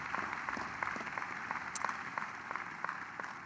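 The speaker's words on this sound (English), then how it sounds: "Please join me in a round of applause for all of our honorary degree recipients this year." Applause at a university commencement ceremony honoring honorary degree recipients: a faint, steady wash of distant clapping from a large audience, fairly even throughout.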